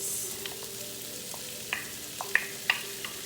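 Celery and mixed vegetables go into a frying pan for shepherd's pie with a low steady sizzle. Occasional soft clicks and taps come from a utensil against the pan.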